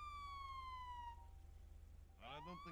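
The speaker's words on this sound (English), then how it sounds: "Turn the sirens back on, and then flex your arm muscle," A police car siren in a roleplay video game wails with long descending sweeps, cuts out briefly, then returns with rapid rising yelps, loud and close over a steady low engine hum.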